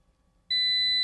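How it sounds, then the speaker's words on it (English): A multimeter's continuity test gives a single steady high-pitched beep that starts abruptly after a moment of quiet and holds loud and clear to the end. "So when I touch these two, I'll get a beep."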